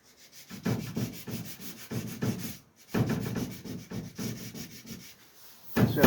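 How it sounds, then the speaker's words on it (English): A sanding block scrubs back and forth over high build primer on a Ford Escort MK1 car door in quick rhythmic strokes, close up, pausing briefly twice before resuming. "I'm going to carry on sanding the bottom of the door here now"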